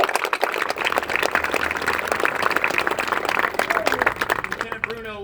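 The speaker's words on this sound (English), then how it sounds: "I think that we need to give them a round of applause for putting this on." Scattered, crisp clapping at a military farewell ceremony continues at moderate loudness throughout, with voices talking under it and someone speaking as it dies down.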